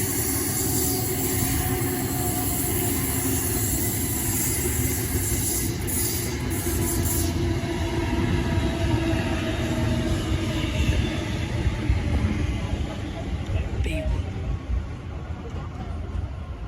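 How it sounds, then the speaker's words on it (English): A B1 train arrives into Bankstown station with a steady, loud rumble of wheels and rail noise that fills the whole stretch, with faint high squeals near the end. "Okay, so we got B1 arriving into Bankstown."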